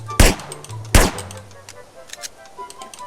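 Two sharp, loud gunshots a little under a second apart in the RWW shooter game, performing the C-Bug shooting technique, followed by fainter clicks and game noise.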